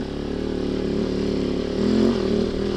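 A KOVE 450 Rally motorcycle's single-cylinder engine drones steadily while riding on wet, slippery roads, a close, continuous engine note that swells briefly near the end.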